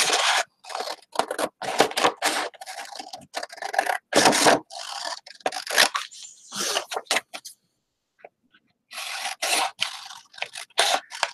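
Scissors snip and scrape through a small paper file folder in repeated close cuts, bursts separated by brief pauses and a longer quiet stretch, with no speech over them.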